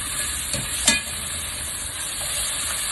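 Osso buco and short ribs sear in a hot pan, a steady close sizzle with a sharp clatter of the pan or utensil near the one-second mark as the meat is turned.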